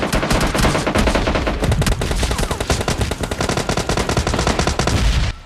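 Nonstop automatic gunfire from a whole squad in the PUBG Lite mobile game: dense, rapid volleys of loud shots overlapping with no pause.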